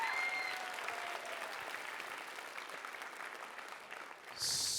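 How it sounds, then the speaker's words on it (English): Steady, moderately distant applause from a school audience after student writing performances, continuous clapping that dips briefly before a sharp noise at the end. "Give them another round of applause. Clap it up again."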